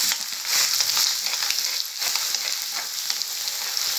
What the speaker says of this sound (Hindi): मसालों को भूनेंगे।